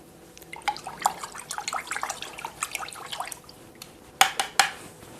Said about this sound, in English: So we're just going to clean this brush real quick.